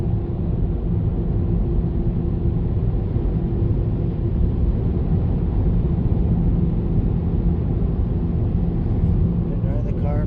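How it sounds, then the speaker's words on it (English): A car wash air dryer blows hard over a car, a loud, continuous, close roar with no letup and no talking. "Air dry the car, man."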